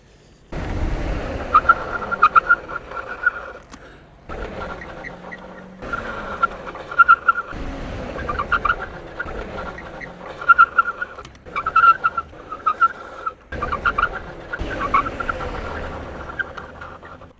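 A Spark Cycleworks Brute makes repeated hard stops from 50 mph, each run a burst of close mechanical whine and tire noise with sharp squealing peaks, cut off by short pauses between passes.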